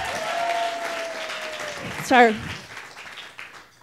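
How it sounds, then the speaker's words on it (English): Audience applause for the film Stand By Me, a steady wash of clapping under a brief spoken word, fading after a couple of seconds. "let's clap for Stand By Me."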